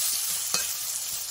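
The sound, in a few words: vegetables frying in a pan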